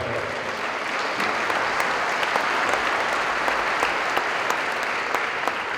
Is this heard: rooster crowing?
no